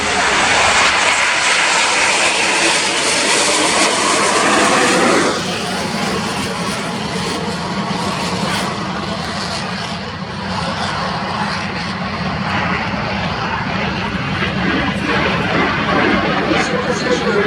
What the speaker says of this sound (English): second section is starting as acceleration on the runway